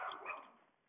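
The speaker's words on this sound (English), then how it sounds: "Sorry, my dog is barking." A pet dog gives a single short bark indoors, fairly faint and slightly distant, with no talking over it.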